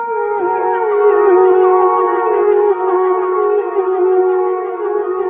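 A sung vocal line treated with a delay effect, loud and sustained, its wavering pitch trailed by repeating echoes that smear the notes together, with no other instruments evident.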